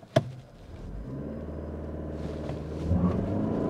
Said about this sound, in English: I have the car in sport mode, and let's just see what we can get.